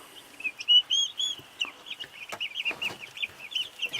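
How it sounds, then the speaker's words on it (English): Incubator-hatched chickens cluck and chirp continuously nearby on a farm, with many short overlapping calls. "I'm pretty happy with the chickens that I've hatched here."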